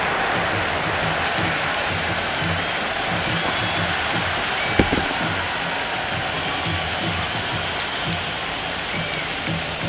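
Steady roar of a large cricket crowd cheering and applauding in the Cricket 26 video game during an India vs Pakistan T20 World Cup match, a continuous dense wash of noise with no break.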